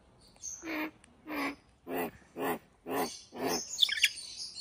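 A pet myna bird gives a series of six rhythmic, evenly spaced calls, fairly close and clear, ending in a few sharper high chirps.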